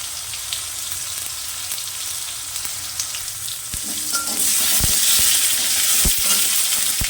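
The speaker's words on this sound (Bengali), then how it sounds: "কাঁচা লঙ্কা আর টমেটো এইটাকে মিক্স করে নেব" Green chilli and tomato sizzle steadily in a hot pan with bay leaf and whole spices, with scattered scraping stir knocks; the frying grows louder and denser in the second half, with no voices.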